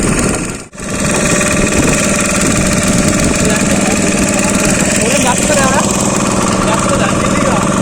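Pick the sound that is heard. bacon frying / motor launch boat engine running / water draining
motor launch boat engine running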